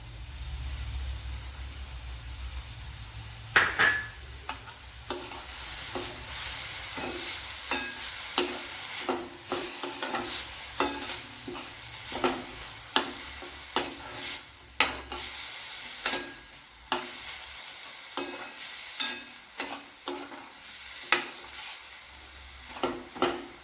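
A small sliced onion sizzles in a hot pan, a continuous frying hiss broken by repeated scraping stirs of a spoon at an uneven rhythm, close and without talk.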